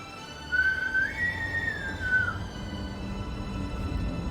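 A person whistles a wavering tone, imitating a submarine's whistle. The single breathy line rises and dips for about two seconds over a low steady hum and fades, with no talk.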